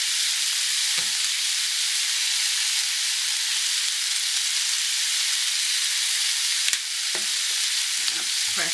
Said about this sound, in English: place them in the skillet seasoned side down